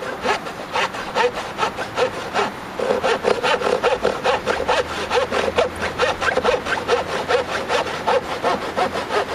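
Hand saw trimming a small wooden holder, with steady rhythmic back-and-forth strokes cutting through wood close by, briefly pausing before resuming at an even pace.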